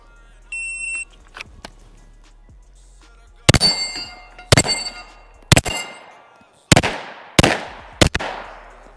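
Six gunshots ring out at about 10 yards, each striking a steel swinger target with a sharp metallic clang and a short ringing decay, spaced roughly a second apart after a few faint knocks.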